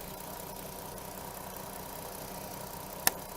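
A 3.2 V6 petrol engine in a 2007 Audi A3 quattro idles with a steady, quiet, even hum throughout, and a single sharp click comes just before the end.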